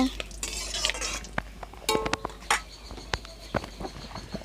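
Banana flower (mocha) being stirred in a frying pan, with intermittent scraping and clinking of a spatula against the pan over a low sizzle, close by and moderately quiet.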